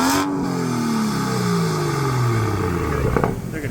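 A car engine starting and revving, likely a Porsche 911 at an auction, loud and close with a rising then falling whine of harmonics over a steady roar, ending with a brief clatter.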